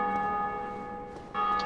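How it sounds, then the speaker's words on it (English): A church bell tolls inside the Dark Souls video game, steady and moderately loud with sustained ringing tones that swell again near the end, with no talking over it. "Oh, someone's ringing the bell."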